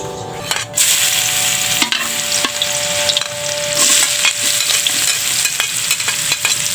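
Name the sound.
sautéing pancit canton and bihon noodles in a pan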